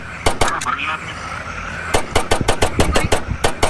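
Rapid bursts of gunfire from a gun in the Roblox video game, a couple of quick shots followed by a steady run of sharp, evenly spaced cracks, loud and close.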